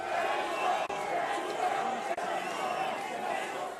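A large crowd of thousands gathers on the promenade in Nice, a dense, steady murmur of many voices mingling with distant shouts.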